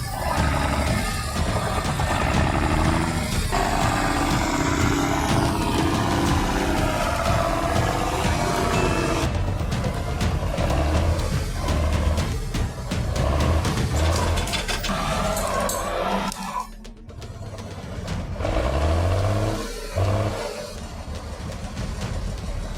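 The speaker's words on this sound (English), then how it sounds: "The logging tractor pushes forward, dragging 30 tons of timber behind it." A logging tractor with chain tracks wrapped around its wheels roars on a mountain as it drags about 30 tons of timber, a loud, continuous strained engine drone with clanking and rumbling that dips briefly near the end, no talk.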